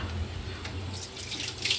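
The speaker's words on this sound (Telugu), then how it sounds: "కొంచెం నీళ్ళు చిలకరిస్తాను." Water from a tap runs steadily and close by, with a slight brighter splash partway through, as water is sprinkled in while dal cooks in a pressure cooker; no one speaks.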